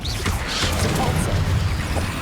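Depulso force spell cast in Hogwarts Legacy on PS5: a whooshing blast with thwacking, crashing impacts amid loud ongoing game effects and low rumble, a voice briefly present.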